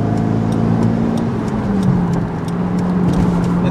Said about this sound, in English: I just rode the torque curve all the way up to like 65 miles an hour